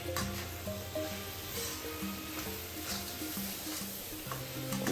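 Prawns sizzling in a hot pan as they are stir-fried, a soft continuous hiss with scraping spatula strokes, faint music tones underneath, close and fairly quiet, no voices.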